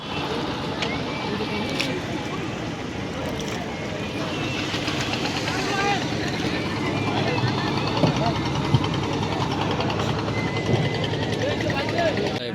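A departing passenger boat's engine drones steadily and loud underneath, growing slightly stronger, while people talk over it.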